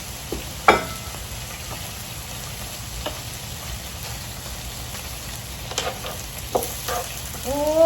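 Shrimp cooking on a Korean grill at home, a continuous close sizzle and spatter with a few sharper pops and clinks scattered through it.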